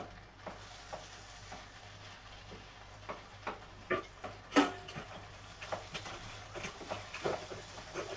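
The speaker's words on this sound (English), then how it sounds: "Okay, I'm stir frying." Rice sizzles while being stir-fried in a pan for chicken jollof fried rice, a utensil scraping and tapping in an uneven rhythm, the stirring clatter growing busier toward the end.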